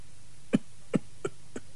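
A Cantonese storyteller imitates an aging prince's coughing fit: four short, sharp coughs spaced about a third of a second apart, each weaker than the last, over quiet background hum.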